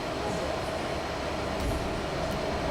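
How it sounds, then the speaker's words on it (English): A New York City D subway train running back toward Manhattan from Coney Island gives a steady, close rumble of wheels and car noise, continuous throughout with no talk. "And then we headed back to Manhattan on the D subway."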